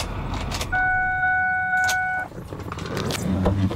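A 2010 Ford F-250 Super Duty Lariat FX4 pickup with a Powerstroke diesel engine shuts down nearby. A steady low idle rumble cuts off partway through, while a pair of steady chime tones sounds over it for a second or so.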